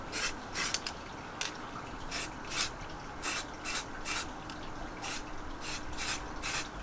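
Bursts of aerosol spray paint applied in thin light coats to motorcycle parts, short hissing blasts repeated in an irregular rhythm, close and fairly loud, with quiet gaps between.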